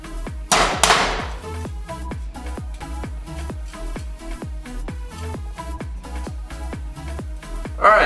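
Fresh ginger root being grated for masala chai, a quick, regular series of scraping strokes close by, steady in rhythm throughout, with a louder rasp near the start.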